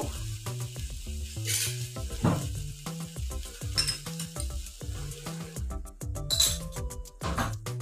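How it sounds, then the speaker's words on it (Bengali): Ground turmeric, coriander, cumin and red chili powder fry in hot oil with a steady sizzle, broken by repeated scraping stirs and light clinks of a spoon against the pan. "ভালো করে মশলাটাকে ফ্রাই করে নিব।"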